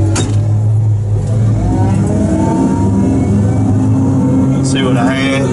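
A Tigercat 630E forestry skidder's engine drones steadily and loudly while the machine drives and turns, a constant low rumble filling the whole stretch.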